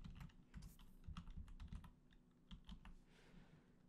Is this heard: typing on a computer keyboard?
yes